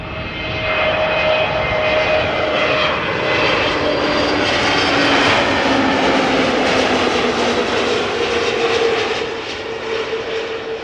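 A fixed-wing airliner arrives on runway 06 at Amsterdam Schiphol on a hot day, its engine roar loud and steady throughout, with a whining tone sliding slowly as the aircraft passes close by.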